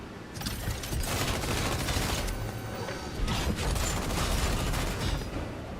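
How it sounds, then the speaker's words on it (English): Machine gun fire from a combat mech in the video game Mecharashi, sustained rapid volleys of crackling shots with booming impacts, fairly faint overall and continuous for several seconds without talk. "it's also got a machine gun"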